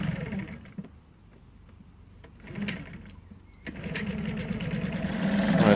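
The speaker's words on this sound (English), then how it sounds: "Alright, so we got the Mercury running now." A Mercury 4 hp two-stroke outboard motor sputters and then catches, settling into a rapid, buzzing rattle that grows steadily louder toward the end.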